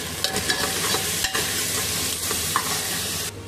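Tomatoes and curry leaves sizzle in hot oil in a pan for mutton kulambu, with a spoon scraping and stirring in irregular knocks over a continuous close frying hiss and no voices.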